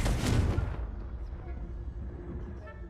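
Confringo blasting spell cast in the Hogwarts Legacy video game, a loud booming burst in the first second that decays into a rumbling tail with faint game ambience.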